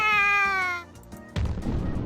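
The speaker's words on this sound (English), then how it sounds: "She's playing with a cat beneath the tree." A cat in the visual novel Fureraba gives one clear, drawn-out meow up close. A burst of soft rustling noise follows after a brief pause, and no one speaks.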